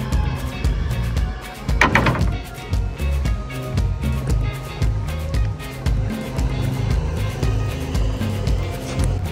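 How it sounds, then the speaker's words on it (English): A power in-floor wheelchair ramp slides out of a 2017 Toyota Sienna van as the vehicle lowers, a steady close motor hum with a clunk near the start and faint mechanical ticking throughout. "this is going to bring out the ramp and it will also lower the vehicle"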